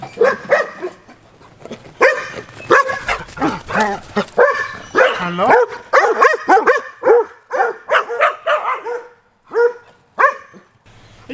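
Several puppies bark and yip in quick, excited bursts close by in a yard, with a brief spoken word among them.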